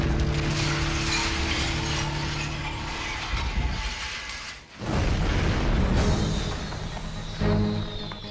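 Fireworks going off inside a burning British fireworks factory make a dense, continuous crackling roar of overlapping bangs, with a brief dip midway before the barrage surges back at full strength.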